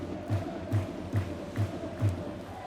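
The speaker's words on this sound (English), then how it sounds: "Sellout crowd tonight here at the N2 Braehead Arena." A sellout crowd in Braehead Arena for an ice hockey game between Braehead Clan and Fife Flyers makes a faint, distant murmur, with steady rhythmic thumps like drum beats about twice a second.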